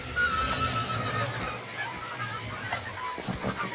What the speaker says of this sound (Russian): Наша лошадь.